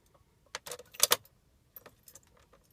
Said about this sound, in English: keys back in